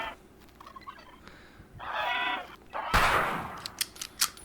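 Turkeys gobble in short rattling bursts at a moderate distance in the video game Uktena 64, followed by a sharp burst and several quick clicks.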